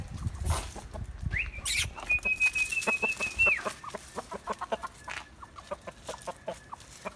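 An Indian rooster clucks and calls close by on a Turkish farm, with a long sustained crowing note partway through and assorted short clucks and farmyard noises around it.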